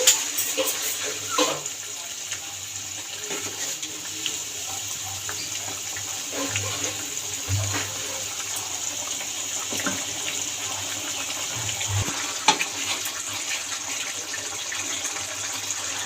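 Water pours into a pan of fried spices and oil for a fig and prawn curry, a steady splashing gush with a few clinks and no talk.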